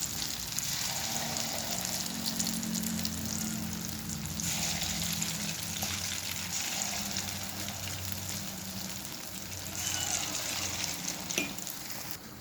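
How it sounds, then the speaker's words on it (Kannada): Jackfruit kajjaya fritters deep-frying in hot oil, giving a steady, dense sizzle and bubbling hiss that runs continuously for about twelve seconds, close and fairly loud, with a faint clink near the end. "ನೋಡಿ, ಕಜ್ಜಾಯ ಬೇಯ್ತಾ ಇದೆ."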